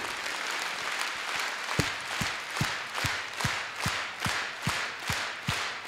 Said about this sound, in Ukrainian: Ці аплодисменти йдуть кожному нашому воїні на війні